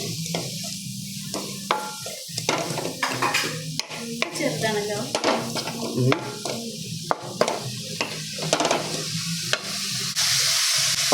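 Onions and green chillies frying for a beef curry: loud, close sizzling in oil with frequent stirring scrapes and spoon knocks against the pan throughout, no speech.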